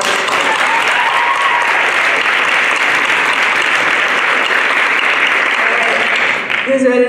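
A crowd claps loudly and steadily for several seconds, sustained applause filling the space before it begins to fade at the end.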